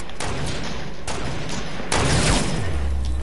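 A video game firefight with several sharp semi-automatic gunshots spaced about half a second to a second apart and one louder blast, heard loud and close over a constant game background with no talking.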